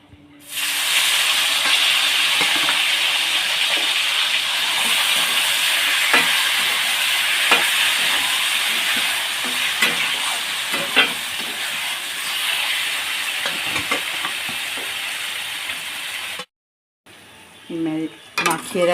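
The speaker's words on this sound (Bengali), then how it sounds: "মাখিয়ে রাখা এঁচোড়টা আমি পুরোটাই কড়াইতে দিয়ে দিয়েছি। দিয়ে এবার একটু ভালো করে নাড়িয়ে নেব" Marinated young jackfruit hisses loudly in hot oil in a wok, a steady close sizzle with scraping stirs and utensil clinks throughout, cutting off abruptly near the end before brief clattering.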